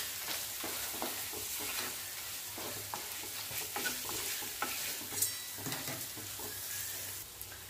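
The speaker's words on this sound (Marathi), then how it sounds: "स्टीलची कढई असल्यामुळे थोडंसं चिटकतं, असं चमच्याने हे करून आपल्याला हे भाजून घ्यायचंय।" Moong dal and semolina roast on low gas in a steel pan while a spoon stirs and scrapes repeatedly, giving a soft, rhythmic scraping and faint sizzle with no talk.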